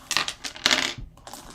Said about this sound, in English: Dice.